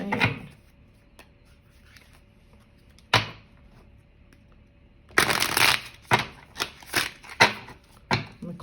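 Tarot cards being shuffled by hand, a short riffle near 3 s followed by a longer burst of dense shuffling from about 5 s with several crisp card-slap flicks, close and clear with no talking.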